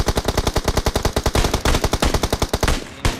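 Rapid automatic gunfire in the battle-royale video game PUBG Mobile, a loud, close, evenly spaced stream of shots firing about eight per second for roughly three seconds, with no talking over it.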